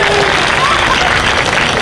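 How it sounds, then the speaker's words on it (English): Loud, steady applause and cheering from a festival crowd at a cosplay contest, continuous clapping filling the space with voices mixed in. "All right, pose for the audience. Round of applause,"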